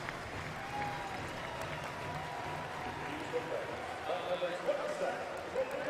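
Crowd applause for a substitute at a Sporting Kansas City vs. LA Galaxy soccer match rises and falls across a large stadium space. It is heard at moderate distance, with scattered cheering and a general murmur underneath.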